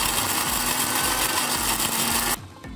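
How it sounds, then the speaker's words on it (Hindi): An electric grinder whirs loud and close as it grinds 30 to 35 cardamom pods, a steady dense buzz that cuts off abruptly near the end, leaving quiet room tone. "30 से 35 इलायचियों को हम ग्राइंड कर लेंगे"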